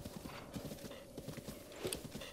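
Rapid, rhythmic hoofbeats of a horse galloping in The Legend of Zelda: Breath of the Wild, steady and close, with a brief snort or whinny near the end.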